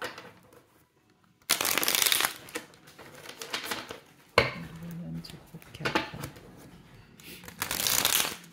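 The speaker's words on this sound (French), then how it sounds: "Je vais vous tirer maintenant quelques cartes de tarot" Tarot cards shuffled in repeated bursts of crisp riffling, each a few seconds long, close and fairly loud, with quieter handling and tapping between bursts.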